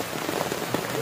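Heavy rain pours down steadily at an ashram in Khopoli, a dense, hissing wash of drops striking surfaces close by, loud and unbroken with no voices.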